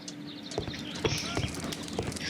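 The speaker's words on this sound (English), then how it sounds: "It's a horse." Horse hooves clip-clop in the video game Sherlock Holmes: The Devil's Daughter, a faint steady rhythm of hoofbeats beneath a busy street ambience.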